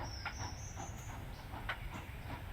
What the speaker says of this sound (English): Given that the train has stopped just for me, the dispatcher seems awfully calm that I'm not boarding